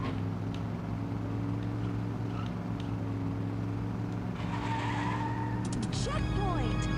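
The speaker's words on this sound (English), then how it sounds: "it has like the absolutely hideous tire screeching sounds" Tires screech in the Cruis'n USA arcade racing game, a squealing skid rising over a steady engine drone near the end, with game sound throughout.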